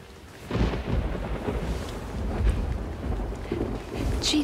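Steady rain hisses over low rolling thunder, with a few heavier rumbles swelling and fading through the storm.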